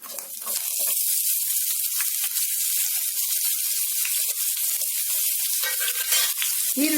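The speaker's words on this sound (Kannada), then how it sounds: "ಅದರಲ್ಲಿ ಒಂದು ಅರ್ಧ ನಿಮಿಷದಷ್ಟು ಮೀಡಿಯಂ ಫ್ಲೇಮ್ನಲ್ಲಿ ಫ್ರೈ ಮಾಡ್ಕೊಳ್ಳಿ" Cumin, curry leaves and onion frying in hot ghee, a loud, steady hiss of sizzling close to the pan that holds unbroken throughout, with faint stirring scrapes.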